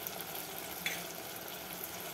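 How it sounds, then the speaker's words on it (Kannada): Tomatoes cook in oil in a pan, giving a steady, soft sizzle and hiss throughout with a faint clink near the middle, no voices. "ಟೊಮೊಟೊ ಈ ಎಣ್ಣೆಯಲ್ಲಿ ಚೆನ್ನಾಗಿ ಸಾಫ್ಟಾಗಿ ಕುಕ್ ಮಾಡ್ಕೊಳ್ಳೋಣ"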